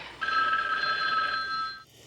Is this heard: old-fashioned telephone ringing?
yes